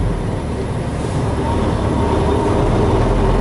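Loaded Freightliner truck shaking and rattling on the road, a steady, heavy rumble with constant broadband road and cab noise, loud and continuous.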